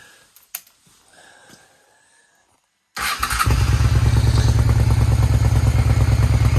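A small engine cranks and fires at once after a quiet stretch with faint handling clicks, then settles into a loud, steady, close idle with a fast regular pulse that keeps running to the end.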